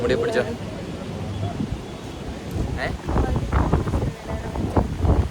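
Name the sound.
wind blowing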